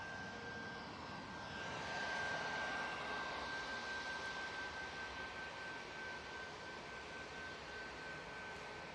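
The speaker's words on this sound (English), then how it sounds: "You have this Ryanair 737 MAX 8 going off to Barcelona now, coming on" A Ryanair Boeing 737 MAX 8 departs Manchester Airport for Barcelona, its jet engines making a steady broadband roar that swells slightly around the middle and holds at moderate distance, with a thin high whine running through.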